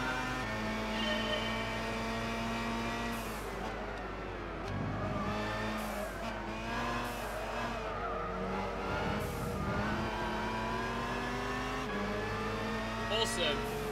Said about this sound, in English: This is pretty cool being able to drive the Tom Supra.